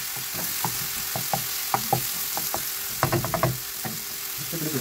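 Half a kilo of minced meat frying in a spoonful of ghee in a pan, with a steady sizzle under repeated clacks and scrapes of stirring, including a quick burst of knocks near the end, close and alone.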